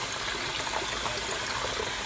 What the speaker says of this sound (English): Turn on the hot water too.